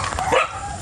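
A pet dog at a campsite in Tanay, Rizal barks a few quick yips and whimpers at close range, then quiets into background ambience.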